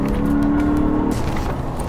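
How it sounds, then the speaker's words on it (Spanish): A Lexus RC F engine holds a loud steady drone under braking, then the tone drops and settles as the car slows. "La frenada y la reacción del motor es increíble"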